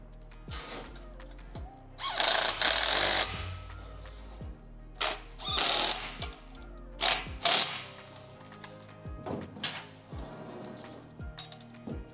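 A ratchet tightens the screws holding the front plate onto a Baja Designs LP6 headlight for a Jeep. Quick clicking ratchet strokes come in bursts, fairly faint and close, with short pauses between them.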